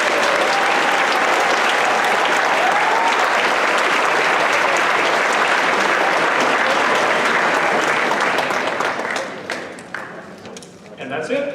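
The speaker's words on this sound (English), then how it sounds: "One more round of applause for them." An indoor audience at a robotics competition kickoff event applauds loudly and continuously for the sponsors, the clapping fading out near the end.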